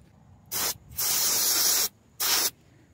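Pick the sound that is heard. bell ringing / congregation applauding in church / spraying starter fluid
spraying starter fluid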